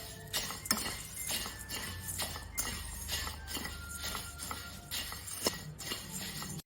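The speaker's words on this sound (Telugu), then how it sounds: "స్టవ్ మీద మందంగా ఉన్న కడాయి పెట్టుకొని 1 కప్పు మరమరాల్ని వేసుకొని ఫ్రై" Puffed rice being dry-fried and tossed in a thick kadai on the stove, giving steady clinking and scraping against the metal with light crackle, close and continuous with no talk.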